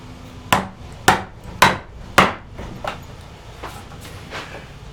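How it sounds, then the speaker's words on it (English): A chisel is driven into wood to chop a mortise for a joint stool: four sharp mallet strikes in steady rhythm, then softer knocks and creaks as the blade is pried, close and clear. "so I strike it in and then give it a little pry like that"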